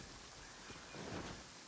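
Steady rain falls in the video game Genshin Impact, a soft even hiss of drops with a slight swell toward the end and no voices.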